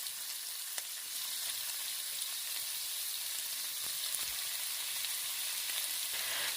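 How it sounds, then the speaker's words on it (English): Steak pieces brown in hot cooking oil in a preheated pot, giving a constant bright sizzling hiss, close and even, with occasional light pops and clicks and no talking. "I'm going to start cooking and browning the meat"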